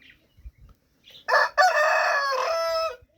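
A Harati rooster crows loudly and close by in one long, sustained call after a few soft clucks and short chicken sounds from the flock.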